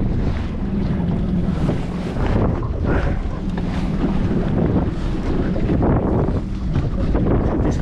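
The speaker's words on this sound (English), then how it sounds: "It's very windy." Strong wind roaring steadily against the microphone while pike fishing, a heavy continuous rumble with rushing gusts and water sounds close by.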